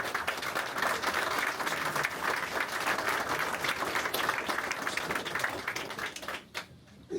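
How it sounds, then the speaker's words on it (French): A room of supporters applauds at a French municipal campaign launch in Le Lavandou, steady close clapping that holds for several seconds before tapering off abruptly near the end. "Je pense qu'on peut l'applaudir."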